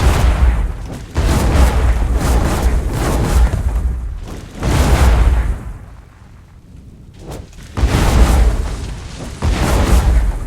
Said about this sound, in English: Destroying houses.